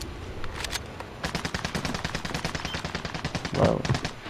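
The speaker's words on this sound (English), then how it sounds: "where those shots come from?" A rapid string of loud, close gunshots from a DMR in the video game Call of Duty: Cold War, firing in a steady burst of sharp cracks with a few heavier impacts near the end.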